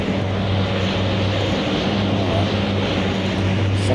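A De Havilland Dash 7 four-engine propeller airliner in Microsoft Flight Simulator roars steadily on its takeoff run, a loud, even propeller drone with a low pulsing hum and no voices.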